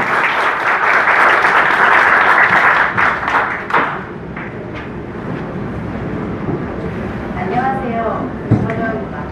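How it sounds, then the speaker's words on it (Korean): Audience applause greets a speaker at an art fair opening ceremony in a hotel, loud dense clapping that gradually thins out while voices and speech carry on beneath. "뜨거운 박수로 환영해 주시기 바랍니다."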